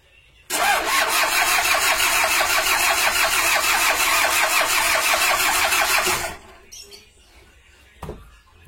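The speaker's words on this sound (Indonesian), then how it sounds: "Kita hidupkan dulu, soalnya di sini masih kosong di ledengnya, jadi agak lama startnya." A Toyota Hiace LH-11 diesel with a dry fuel line cranks loudly and rhythmically for nearly six seconds without a break, then the starter stops and a quieter low rumble follows, with one brief knock afterward.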